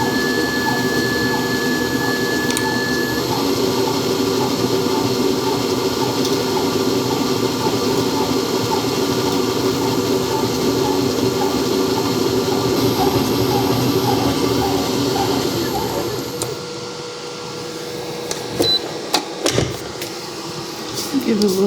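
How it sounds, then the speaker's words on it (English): A Zacme 8.4 quart stand mixer runs with a steady mechanical hum and whir, continuous at first, then easing down and giving way to a few clunks and knocks near the end. "I don't think I've heard a mixer this quiet."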